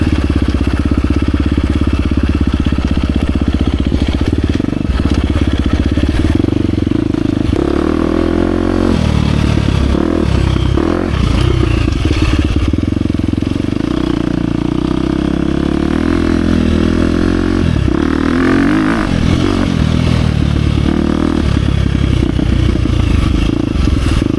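A 2023 KTM 350 XC-F Factory Edition dirt bike being ridden, its engine loud and close throughout, revving up and down with gear changes amid clattering and scraping from the trail.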